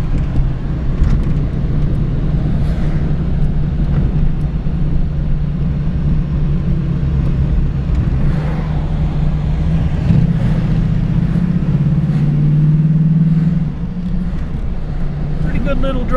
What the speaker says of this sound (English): Small block Chevy in a 1934 Ford.